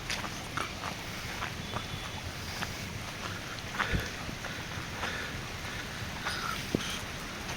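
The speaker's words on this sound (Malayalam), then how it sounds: "നല്ല മഴയുണ്ട്, അതുകൊണ്ടാണ് കേട്ടോ." Heavy rain falls steadily at Mullurkara Thiruvanikkavu temple in Kerala, a dense even hiss with occasional close drips and taps, with no voices.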